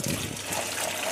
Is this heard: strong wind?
no